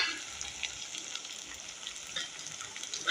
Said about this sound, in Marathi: कांदा चांगला झाला त्याच्यामध्ये टाकायचं हिरवी मिरची आणि टमाटर.